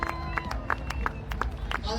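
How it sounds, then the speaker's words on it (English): Outdoor crowd at an air display claps for a skydiver landing, sparse distinct hand claps over crowd murmur and voices, with a low rumble underneath. "Big round of applause, please."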